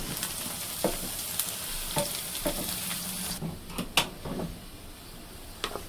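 Saag greens frying in hot oil sizzle softly in a pan, broken up by a string of scraping, clinking stirring strokes at irregular intervals, close and fairly quiet.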